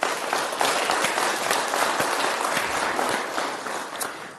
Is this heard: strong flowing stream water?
no